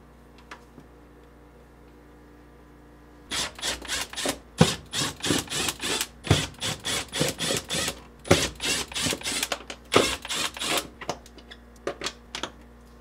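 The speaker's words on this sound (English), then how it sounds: "using a quarter-inch nut driver, remove these five screws." A quarter-inch nut driver backs out screws on the evaporator cover of a GE French door refrigerator, giving close, busy bursts of rapid ratcheting clicks and scraping, with short pauses between screws.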